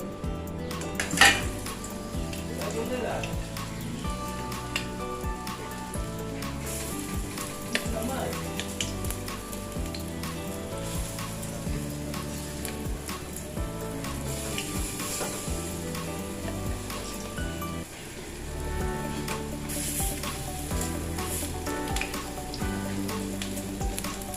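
Raw banana kofta fries in oil over a lowered gas flame with a continuous sizzle, while utensils clink and stir against the pan and music plays underneath.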